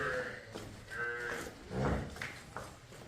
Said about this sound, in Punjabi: ਚੰਗੀ ਭਾਰੀ ਹੈ ਮੱਝ